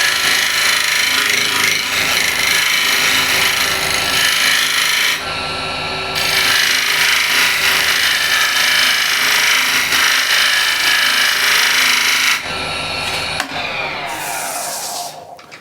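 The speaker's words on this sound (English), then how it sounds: "Let's see with the shear scraping." A hand scraper shear-scrapes a metal surface in long, close, rasping strokes, a loud abrasive hiss broken by two short pauses, then ending with a brief scratchy sweep.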